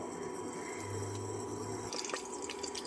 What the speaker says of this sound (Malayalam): ഒരു കുക്കർ ചൂടാകുമ്പോൾ അതിലേക്ക് ആവശ്യത്തിന് വെളിച്ചെണ്ണ ഒഴിച്ചു കൊടുക്കുക.